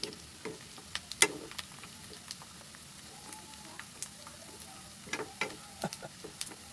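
Chicharon pork rinds frying in hot oil, with a quiet, steady sizzle broken by scattered sharp pops and crackles, louder clusters coming toward the end.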